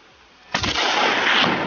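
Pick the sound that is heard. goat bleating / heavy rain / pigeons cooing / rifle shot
rifle shot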